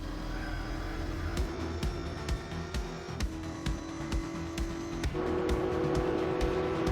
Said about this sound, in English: With the start-finish straight coming around once again, maybe this time we can successfully complete the overtake.